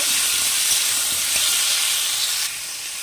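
Loud, steady sizzling hiss from a hot pan as fried vegetables are stirred into a curry, continuous throughout with a slight drop in level near the end.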